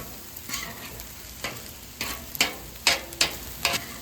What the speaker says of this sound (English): add a little bit as you go, and then stir around